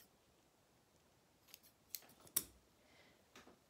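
Scissors snip through a rolled yuba sheet, a few soft, quick cuts spaced over a couple of seconds, faint and close in an otherwise quiet room.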